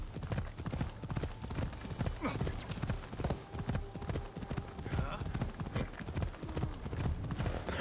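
A ridden horse's hooves clop in a brisk, even rhythm in Assassin's Creed Shadows, continuous and fairly close, with a person talking over the hoofbeats.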